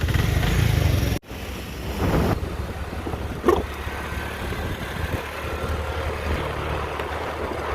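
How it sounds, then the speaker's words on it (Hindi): Motorcycle being ridden on a road in drizzle, its engine a steady, fairly loud drone throughout, with a brief clatter near the start and no speech. "अब मज़ा आएगा बाइक चलाने का।"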